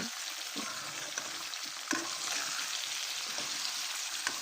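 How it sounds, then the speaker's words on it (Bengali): A steady, loud sizzle of vegetables frying in oil, with occasional scrapes and knocks as they are stirred in the pan. "এটাকে এবার ভালো করে বেজে নেব"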